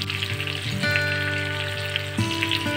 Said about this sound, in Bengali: আর ভালো করে সব নেড়ে চেড়ে ভেজে নেব